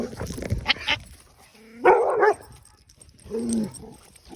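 Dogs bark in a training session: a few short barks early, then a louder bright bark burst near the middle and a softer yelp-like bark toward the end, fairly close with quiet gaps between.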